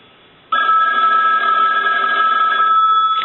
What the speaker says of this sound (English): we'll go ahead and ring this telephone. We'll let that go a few times.